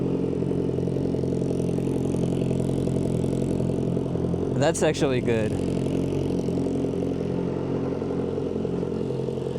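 A Kawasaki ZX-4RR motorcycle idles with a dB killer fitted in its exhaust, giving a steady, subdued low hum throughout, while a person talks over it close by.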